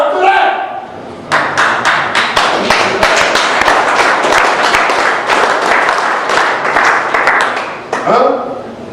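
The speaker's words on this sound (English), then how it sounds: "Y'all clap kind of weak." An audience claps together through most of the stretch, a dense, loud patter of many hands. It starts after a short voice and fades out as another voice returns near the end, at a personal development program held in a prison.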